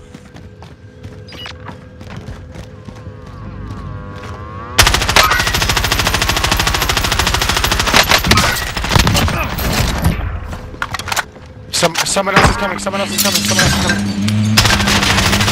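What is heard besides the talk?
gunfire in the video game Call of Duty: Modern Warfare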